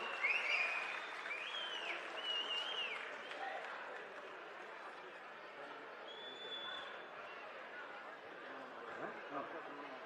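Audience applause greets a speaker at a panchayat office groundbreaking ceremony in Dodda Thogur, Bengaluru: dense, steady clapping from a crowd across the whole span, loudest at the start, with a murmur of chatter and faint laughter beneath it.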